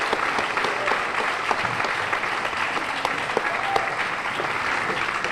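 Sustained audience applause fills an awards gala hall, a dense, even wash of many hands clapping steadily throughout with no break.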